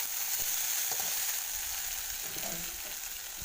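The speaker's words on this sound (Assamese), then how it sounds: "দেখিছেনে, এনেদৰে ভাজি ল'ম অলপ।" Chopped eggplant frying in oil makes a steady close sizzle throughout, with faint occasional stirring scrapes and no voices.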